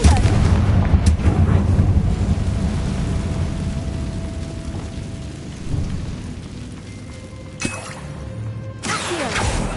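Confringo fire spell explosion in Hogwarts Legacy: a deep rumbling blast that rolls and decays over several seconds, followed by scattered crackles and later bursts of bright magical effects.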